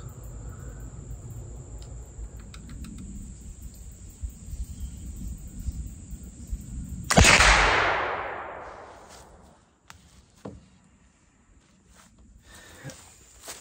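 One loud shot from a .36 flintlock rifle fired outdoors, a sharp crack followed by a long, fading rumble, set against quiet ambience with a faint, thin insect-like hum and a few small knocks.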